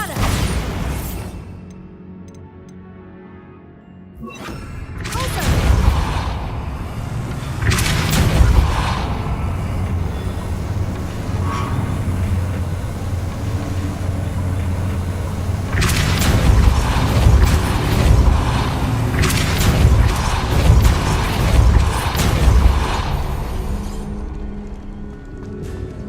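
Bombarda blasting spells in the Hogwarts Legacy video game set off repeated booming explosions with crackling debris, loud and dense over a sustained rumbling backdrop, coming in bursts through most of the stretch.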